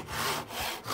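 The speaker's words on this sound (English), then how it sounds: "Use the end of that block as a guide for your saw if you need to." A hand saw rasps through timber braced on a bench hook, with two quick close strokes, loud and alone.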